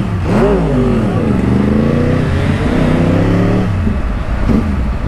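A Yamaha YZF R1 crossplane motorcycle with an Akrapovic exhaust revs hard and close, rising and falling in sharp bursts with a loud, rumbling roar throughout.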